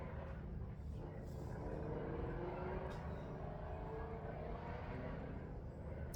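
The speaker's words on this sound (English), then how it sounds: "I know y'all hear them cars and everything" Distant highway traffic near a garden, heard as a steady low rumble of passing cars and trucks that stays faint and constant throughout, with no talking.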